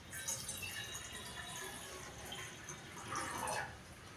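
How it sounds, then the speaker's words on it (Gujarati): A faint, continuous stream of water runs into a pot for Maggi noodles, a soft splashing wash that holds steady throughout. "પછી આમાં પાણી નાખશું થોડું."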